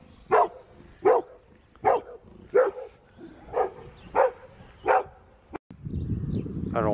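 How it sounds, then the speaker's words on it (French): A dog in Virieu barks in an evenly spaced series of seven single barks, each clear and moderately close, followed by a burst of rustling noise at the end. "Ah oui, bon, il y a beaucoup de chiens"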